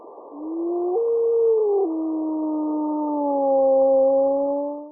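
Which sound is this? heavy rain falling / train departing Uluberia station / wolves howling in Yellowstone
wolves howling in Yellowstone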